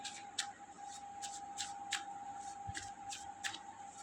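Tarot cards being shuffled by hand in a quiet room, a steady run of soft riffling bursts repeating about every half second, close and clear, with a faint steady tone underneath and no talking.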